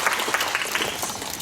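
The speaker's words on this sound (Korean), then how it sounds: "큰 박수 부탁드립니다" An audience at a cinema stage event claps steadily in a dense, even burst of applause filling the room.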